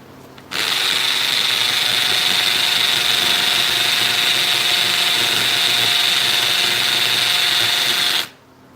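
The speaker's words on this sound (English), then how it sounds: "drill hole in the granite and let's get the fuck out of here." A hammer drill bores a hole in granite with a loud, steady whining grind that starts abruptly, holds evenly for about eight seconds, then stops.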